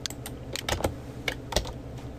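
Computer keyboard typing, a short burst of irregular key clicks close to the microphone over a low background hum, with no voices.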